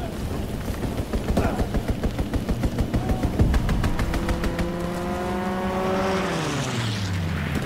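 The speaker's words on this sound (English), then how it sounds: "Enemy strafing run inbound." Enemy aircraft strafing run in the World War II shooter Call of Duty WWII: a rapid burst of gunfire pulses gives way to a loud propeller engine drone that rises and swoops past, with no talk.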